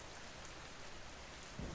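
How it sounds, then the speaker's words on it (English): Steady rain patters against a window, a soft, even, continuous hiss that swells slightly near the end, faint and alone with no voices. "The rain on the western window had eased a little, then thickened again"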